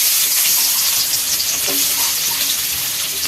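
Sliced onions tipped into hot oil in a pan on a small mini cooker, giving a steady, loud hissing sizzle throughout with no talking.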